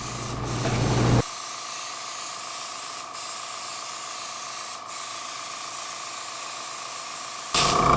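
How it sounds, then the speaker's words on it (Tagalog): A spray gun hisses colored cocoa butter onto a chocolate display in one long steady burst, with short gaps and handling noise at both ends. "so I'm going to spray first white"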